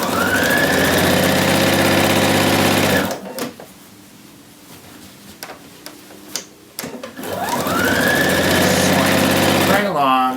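A sewing machine stitches a shirt front to the shirt back along the armhole seam. It makes a loud, fast, steady whir in two runs, with a quieter pause of scattered handling sounds between them.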